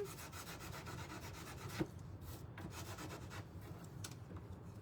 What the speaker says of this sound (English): sand this one just a little